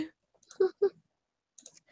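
A few quick keyboard clicks in a short burst, close and crisp, with brief quiet gaps between them.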